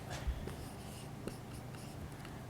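A pen or marker writes out a probability math problem in a lecture, giving faint, close scratching strokes with a couple of light taps against quiet room tone.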